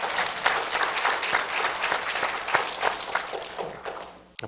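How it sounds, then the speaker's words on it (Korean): Church congregation at an Easter Sunday dawn service applauding in encouragement for a recovering elderly member, steady dense clapping filling the room for about four seconds before tapering off. "한 번 더 격려 박수 한번 쳐주시기 바랍니다"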